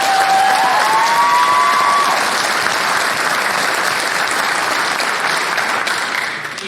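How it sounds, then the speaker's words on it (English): Sustained audience applause at a graduation ceremony, a dense, steady wash of many hands clapping in a large room, loud throughout and fading slightly at the end, with a brief whistle-like tone early on. "Please give them a round of applause."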